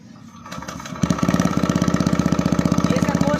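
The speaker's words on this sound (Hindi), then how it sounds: "अब मैं आपको एक्रापॉवी का साउंड सुनाने जा रहा हूँ। तो अभी स्टार्ट करते हैं एक्रापॉवी को।" A TVS Raider 125cc motorcycle fitted with an Akrapovic exhaust starts cold, the starter whir catching into a loud, close, rapid pulsing idle with a steady popping beat.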